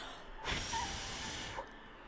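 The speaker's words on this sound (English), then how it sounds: "I'm breathing, bro. I'm breathing." A single breath blown into a microphone makes a close, rushing hiss lasting just over a second.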